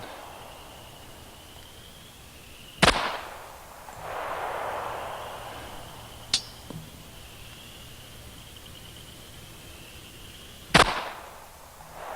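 Three sharp, loud rifle shots from target shooting at a bullseye ring out alone, spaced several seconds apart, each a crisp crack with a short echoing tail over a quiet outdoor background.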